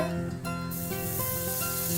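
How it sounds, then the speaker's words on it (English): Butter sizzling in a hot pan, a steady crackling hiss that holds for the whole two seconds with no talking. "It's sizzling up."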